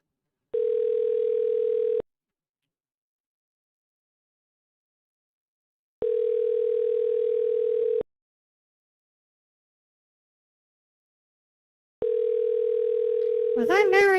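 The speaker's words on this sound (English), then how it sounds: "Now I'm going to call them." Telephone dial tone on an outgoing call, three steady tone bursts of about one and a half seconds each separated by silence, with a faint voice starting at the very end.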